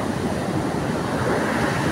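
Rough sea surf pounds the shore at Paratong, Bangar, La Union, a steady, loud broadband roar of breaking waves with wind noise and no speech.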